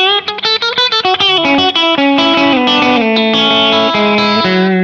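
A Roamer 7-string electric guitar played with both humbuckers through heavy distortion, a run of quick picked notes settling into sustained low chords that ring out loudly on their own.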